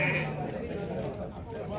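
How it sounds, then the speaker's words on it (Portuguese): Sheep bleat at a sheep, goat and pig livestock fair in Senador Rui Palmeira, Alagoas, a short close bleat at the start over a busy background where people talk. "É, tem muita ovelha"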